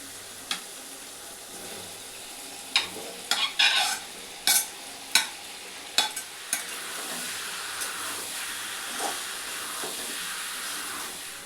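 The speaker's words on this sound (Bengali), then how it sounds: "এই পেঁপে আলু ভাজাটা এবার দিয়ে দেব।" Fried papaya and potato are stirred into a Bengali katla fish-oil curry with peas and spices in a hot pan. A steady sizzle runs throughout, broken by sharp, scattered scrapes and clatters from the stirring utensil.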